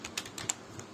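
A computer keyboard is typed on while network settings are entered in a Linux Debian 8 setup: a handful of light, close key clicks in a brief uneven burst, with no voices.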